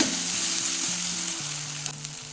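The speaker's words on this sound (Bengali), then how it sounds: "হলুদ পাউডার দিয়ে দেবো নুন দিয়ে দেবো স্বাদ মতো মশলাটা একটু ভেজে নেব" Spice masala with turmeric powder and salt frying in a pan for a bottle gourd and fish head dish, a loud close continuous sizzle over a low burner hum, with a couple of light stirring taps.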